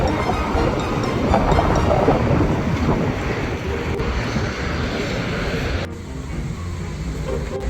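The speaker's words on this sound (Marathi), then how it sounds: "आता तर वातावरण खूपच छान झालंय वारं तर खूप छान सुटलंय" Strong wind roars steadily outdoors along a road, a broad continuous rush that dips slightly near the end, with no one talking.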